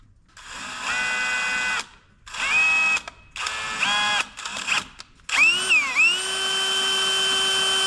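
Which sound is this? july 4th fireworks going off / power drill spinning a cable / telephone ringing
power drill spinning a cable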